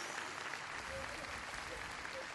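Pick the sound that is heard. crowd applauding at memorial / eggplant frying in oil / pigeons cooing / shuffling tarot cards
crowd applauding at memorial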